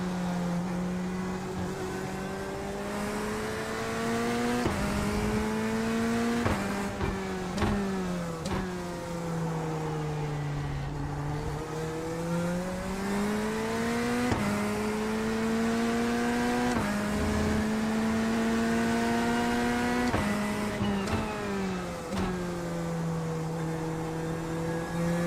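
Race cars in a sim racing video game, with a steady engine drone rising and falling through gear changes while other cars pass close by, loud and continuous with no talking.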